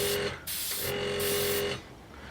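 A steady hiss of a Sparmax Max 4 airbrush run from a Sparmax Arism compressor, spraying in two bursts with a brief pause between, close and fairly loud, with a faint whine underneath.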